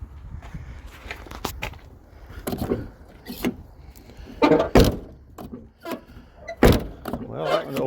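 An old car door at a junkyard, on a Lincoln, Cadillac or Buick, is opened and closed from the outside, giving several sharp thunks and clunks among footsteps and handling noises outdoors.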